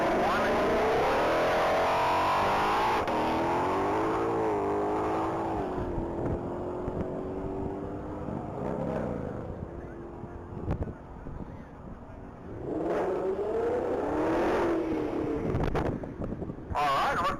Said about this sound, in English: That's going to be a silver 2020 Ford Mustang GT500.